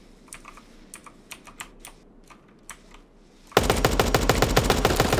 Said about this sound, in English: Tommy gun time.